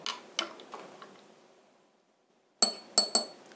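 A spoon clinks against the side of a glass while stirring a hot drink, giving a few sharp ringing taps, then a pause, then three more bright clinks, close and alone.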